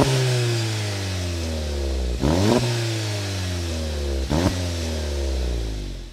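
A VW Golf GTI with a stage 2 downpipe fitted revs hard and close, its engine note climbing in long sweeps broken by two brief drops before rising again.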